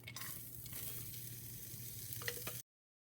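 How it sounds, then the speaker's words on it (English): Steady, hissing sizzle of carrots and leeks frying in a hot, oil-sprayed pan, close and continuous, ending abruptly. "I'm spraying the pan and you can see it's sizzling hot"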